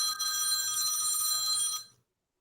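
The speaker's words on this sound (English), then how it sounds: "there you can hear it ring" A mobile phone ringtone rings on an incoming call, a steady bright electronic trill that holds, then cuts off abruptly into silence.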